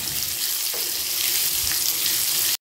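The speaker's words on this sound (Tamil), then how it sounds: "இந்த மாங்காய் வந்து நல்லா குழையிற வரைக்கும் நல்லா கிண்டிக்கணும்." Mango pickle being stirred in a frying pan, a steady loud sizzle and hiss of hot oil with faint scraping from the stirring, close and continuous with no voices.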